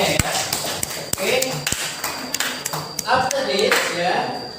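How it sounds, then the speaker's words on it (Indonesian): A class claps hands in scattered, uneven bursts with sharp taps and pings, while a teacher's voice speaks over it. "Oke, tepuk tangan dulu semuanya ya"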